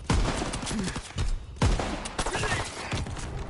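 Bursts of gunfire in a PS4 first-person shooter: three sharp, loud shots at irregular intervals over steady game noise, with brief speech mixed in.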